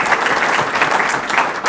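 Steady round of applause from an audience at a city's 2024 State of the City address, dense clapping at an even level throughout, with no voices over it.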